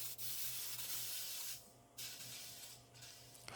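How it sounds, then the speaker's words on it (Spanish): A torch soldering a hollow Cuban link jewelry ring on a bench gives a close, steady hiss that dips briefly twice before resuming, with nothing else heard. "con mucho cuidado comenzamos a soldar"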